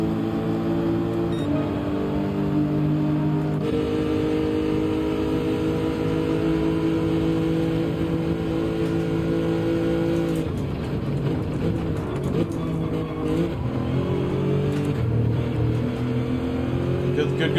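A Lexus race car in Gran Turismo 7 drives on at steady high revs, its engine drone loud and continuous with shifts in pitch, while a voice talks over it.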